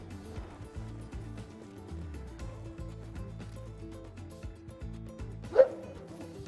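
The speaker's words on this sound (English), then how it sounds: "that was the loudest coyote I've ever heard" A coyote in a hunting video game lets out one sudden, sharp, very loud bark near the end, breaking a quiet background of low game ambience and faint clicks.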